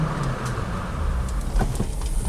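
Jeep Wrangler JK on 35-inch tires braking on a road during a test drive, giving a steady, moderately loud rumble of road and engine noise with a slight low thud near the end and no voices.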